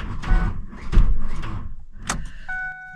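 A car in a cold garage with a weak battery tries to start and will not turn over, giving three sluggish, laboured cranking bursts and a click, then a thin electrical whine near the end.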